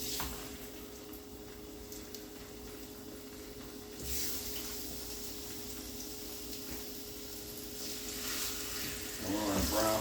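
Chicken and ingredients for chicken Alfredo garlic bread frying in a hot skillet, a steady close sizzle that swells slightly around the middle and again near the end, with no talk over it.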